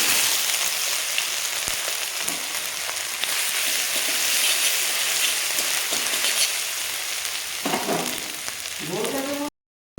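Bay leaf, five-spice and grated ginger frying in hot oil, a loud continuous crackling sizzle close up, with a faint voice near the end before a sudden cut to silence.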